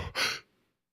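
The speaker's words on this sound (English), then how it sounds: "It almost sounds like somebody breathing" A single short, breathy exhale on a paranormal EVP recording, fading quickly into silence.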